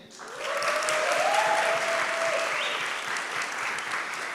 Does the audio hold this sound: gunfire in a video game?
no